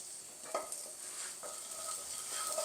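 Cumin powder and chili powder frying in a pan with green chilies for methi matar malai, a steady close sizzle with a few stirring scrapes and light clinks.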